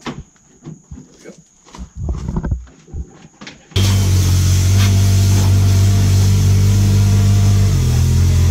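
A Kubota engine revs hard as the machine is moved, starting abruptly after quieter moments with voices and clunks, then holding a loud, steady roar close by.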